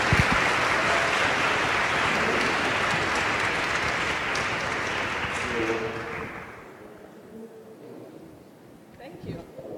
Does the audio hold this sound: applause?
yes